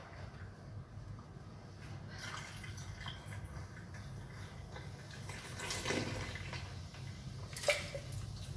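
A Blue Lagoon cocktail is poured into a glass as a soft, continuous trickle of liquid, with faint splashes and a brief clink near the end.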